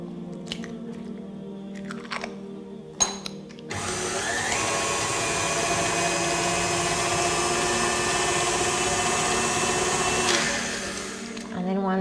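An electric hand mixer beats eggs into creamed butter and sugar for a cake, running loud and steady for about six seconds with a whirring hum, after a few clicks and brief handling sounds at the start.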